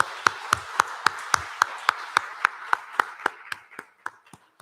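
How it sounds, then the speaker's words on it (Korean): A congregation at a Sunday worship service claps in rhythm, sharp separate claps at a steady beat that slowly fade toward the end, in a quiet room with no talking. "박수하겠습니다."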